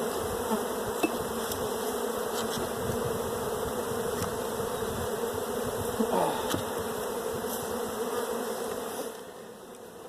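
A dense, steady hum of many honeybees buzzing close by at an open hive during an inspection, continuous throughout with a few sharper clicks and knocks, easing off slightly at the end.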